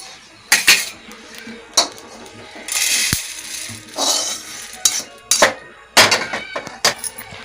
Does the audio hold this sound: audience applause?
no